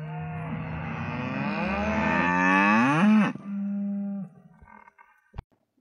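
Cattle mooing loudly and close, one long drawn-out bellow that rises and then cuts off, followed by a shorter lower moo and a brief knock near the end, with no talk.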